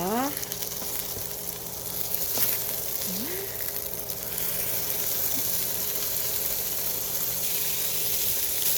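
Pork neck steak searing with basil in a pan over medium-high heat, a steady close broadband sizzle that runs unbroken throughout, with a faint tonal hum in the background.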